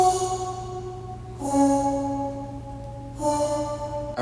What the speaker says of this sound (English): one of the first elements you hear in this song is this vocal part that goes ooh